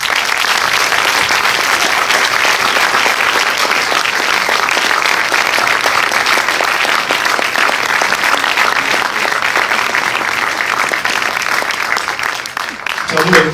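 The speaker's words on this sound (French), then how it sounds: "je vous demande d'applaudir" Cinema audience at the Paris premiere of Swallow at UGC Les Halles gives director Carlo Mirabella-Davis a long, dense round of applause, loud and steady for over ten seconds before fading at the end.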